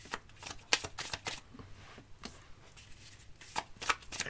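Tarot cards are shuffled for a reading in a series of crisp riffling and flicking bursts, close and fairly quiet, with short pauses between the shuffles.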